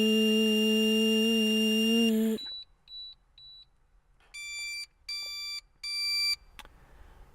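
Smart Start 2020 ignition interlock device beeping through a breath test: a long steady tone during the exhale, then three short high beeps, then three louder chirping beep bursts signalling a pass, with a brief click near the end.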